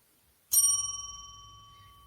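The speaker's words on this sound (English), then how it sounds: "There's the bell." A single bright bell strike, like a bicycle bell or ding, rings out sharply and alone, its clear tones slowly decaying over a couple of seconds against near silence.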